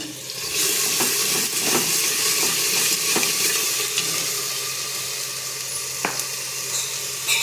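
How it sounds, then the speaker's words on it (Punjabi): Spice masala sizzles loudly and steadily as it roasts in a pan for a potato sabzi, with occasional sharp scrapes and clinks of stirring and no voices. "ਆਪਣਾ ਇਹ ਮਸਾਲਾ ਭੁੰਨ ਹਾਂ ਭੁੱਜ ਰਿਹਾ ਹੈਗਾ"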